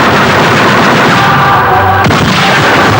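Gunfire from a Bollywood action film, Jawan, a dense burst of shots and booms at full loudness across the whole stretch, with no speech.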